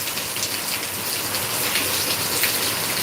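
Heavy rain pours steadily in Deglur, a dense, continuous hiss of drops on surfaces holding even and loud throughout with no voices.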